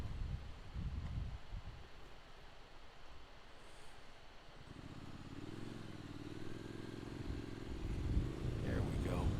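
A motorcycle rides along a wooded country road in Litchfield County, Connecticut, its engine droning steadily amid wind noise, shifting pitch partway through as it pulls harder.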